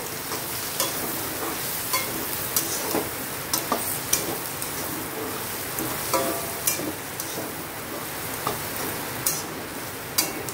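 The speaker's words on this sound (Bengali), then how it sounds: "সুন্দর করে মশলাটা ভেজে নেব" Chicken masala spice mix fries in a pan, with a continuous sizzle broken by frequent light clicks and scrapes from stirring.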